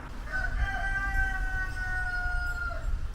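A rooster crows once in a Polish village, a long drawn-out call rising and falling, fairly close, over a low background rumble.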